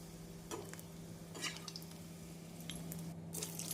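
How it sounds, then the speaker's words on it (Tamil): Mutton kola balls frying in hot oil in Madurai style, a steady low bubbling hiss with a few soft spatters and light utensil touches, close and fairly faint with no voices. "நாம் அனைத்து உருண்டைகளையும் பொறித்து எடுத்து விடலாம்"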